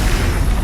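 A short, heavy whooshing boom of the Incendio fire spell in Hogwarts Legacy, a loud, rumbling low-end burst lasting under a second.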